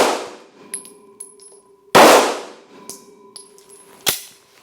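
A handgun fires a couple of sharp, loud shots a few seconds apart, each with a bright ringing tail, between quieter metallic clinks and handling noise, with no talking.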